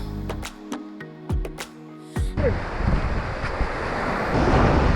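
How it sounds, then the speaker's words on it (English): Waves wash in at Starfish Beach, Phu Quoc, with a few sharp knocks and thumps up front before the surf swells into a loud, continuous rush mixed with wind buffeting the microphone. "Here we are at the Starfish beach."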